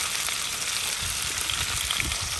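Potatoes and onions frying on a Blackstone griddle, a steady close sizzle and crackle with occasional stirring scrapes, no voices.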